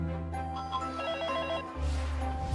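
A home telephone rings in a radio advert for home and business phone service, a steady electronic ringing tone over music, loud and close throughout.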